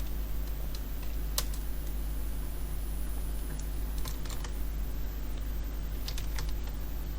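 Text typed on a computer keyboard: sparse individual key clicks and a few quick clustered taps, light and close, over a constant low electrical hum with no talking.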